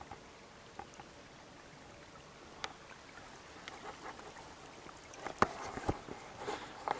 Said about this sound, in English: Hear the sound of the creek and watching the water.